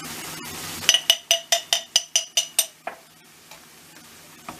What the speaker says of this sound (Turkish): Bunları güzelce kavuruyoruz.